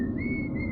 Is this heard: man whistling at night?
yes